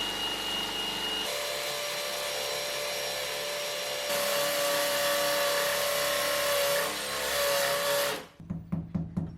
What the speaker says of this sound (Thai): จากนั้นทำการ เจาะรูยึดเพลท